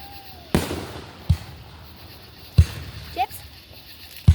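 Fireworks burst outdoors in several separate thumps and cracks, some sharp and some duller, spaced irregularly over a few seconds while people talk in the background.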